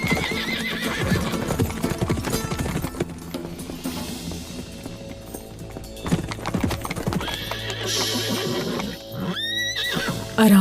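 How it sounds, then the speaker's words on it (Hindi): Loud rhythmic hoofbeats of a galloping horse drive through a dramatic scene, ending with a sharp, close whinny amid background music. "घोड़े का रास्ता रोको, जाओ उसे पकड़ो।"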